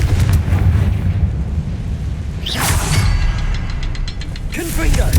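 Confringo fire-blast spell exploding in the Hogwarts Legacy video game: a loud rumbling blast with a bright whooshing burst midway, followed by crackling debris and a second swell of roar, continuous and heavy throughout.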